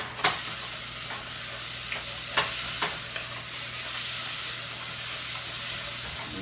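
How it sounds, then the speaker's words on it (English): Fresh ingredients for chicken and plantains sauté in a hot pan, a constant close sizzle broken by several sharp clacks of a utensil stirring against the pan. "Let's give that a little saute."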